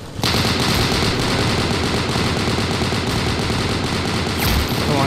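M1919A6 machine gun fired from the hip in the Vietnam War video game Unit 1968: a loud, sustained rapid burst of automatic fire that runs almost the whole clip before a brief break, no speech.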